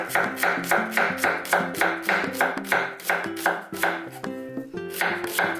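A knife slices an onion thinly on a cutting board for a chicken wing rice bowl, a brisk, even run of crisp chops, about three per second, close and clear with no talking.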